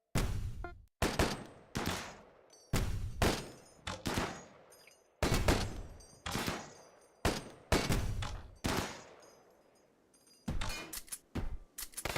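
Bursts of video game gunfire in a run-and-gun shooter with armor-piercing rounds, loud rapid volleys repeating about every second or two across the stretch with short gaps, no talking.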